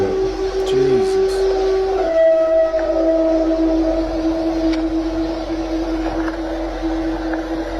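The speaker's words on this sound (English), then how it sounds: "when you hear howls like that and the locals that live local round that area doesn't know what it is" Unexplained animal howls in the Appalachian woods, long sustained tonal wails that hold and slowly fall in pitch, loud over steady background noise.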